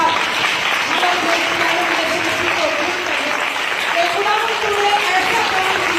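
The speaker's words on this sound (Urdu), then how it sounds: "آئیے بھرپور تالیوں کے ساتھ" Audience applause at a worship gathering, sustained and loud clapping, with a voice faintly heard through it.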